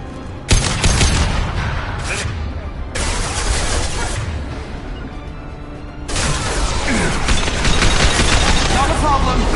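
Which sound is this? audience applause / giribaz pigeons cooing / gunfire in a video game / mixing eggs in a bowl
gunfire in a video game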